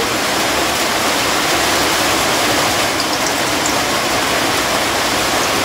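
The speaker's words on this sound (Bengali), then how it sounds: "দেখতেই পাচ্ছেন কি শব্দ হচ্ছে বৃষ্টির।" Heavy rain pours down in a steady, dense, unbroken hiss that stays loud and even throughout, with no voices.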